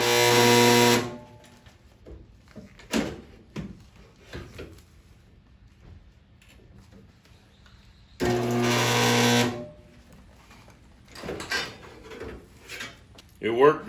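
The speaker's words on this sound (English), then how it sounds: "It had 2 spot welds and I put 2 spot welds in it." A spot welder joins a 1966 Ford Mustang coupe cowl side panel, giving two loud, brief harsh bursts several seconds apart, with quieter handling noises and clunks between them.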